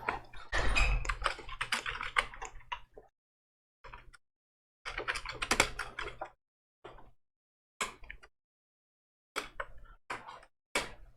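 A computer keyboard typing a command in AutoCAD: quick clusters of close key clicks, then scattered single taps separated by pauses of silence, no talking over them.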